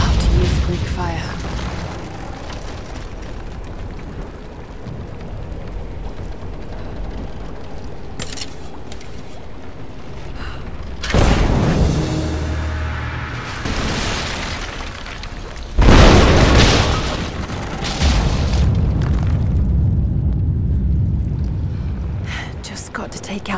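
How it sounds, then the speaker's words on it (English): Greek fire explosions in the Rise of the Tomb Raider video game: two heavy, roaring blasts about five seconds apart, each followed by rumbling debris, set against a steady low game ambience. "Looks like I'll have to use Greek fire."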